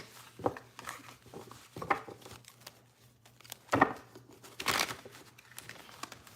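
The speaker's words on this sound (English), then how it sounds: "A few more shuffles, Mr. Zachy." Tarot cards shuffled during a live reading, heard as several short papery riffles and crinkles in irregular bursts, fairly close and quiet, with a faint steady hum underneath.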